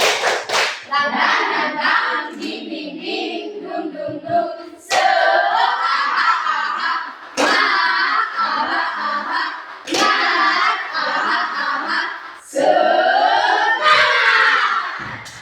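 A group of children performs a rhythmic spirit clap in bursts, with patterned hand claps and loud chanted shouts repeating over several rounds, separated by short pauses.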